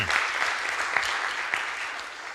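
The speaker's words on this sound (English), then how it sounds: "Big applause." An audience at a network operators' conference claps for a speaker, a broad steady sheet of applause from many hands with a few sharper individual claps, moderately quiet and unbroken by talk.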